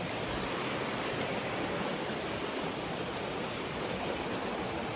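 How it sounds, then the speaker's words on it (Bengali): A waterfall in a Sylhet forest roars steadily and loudly. The dense rushing wash never lets up, and no voices are heard. "এই যে আমরা ঝর্ণার শব্দ তো পাইতেই আছেন"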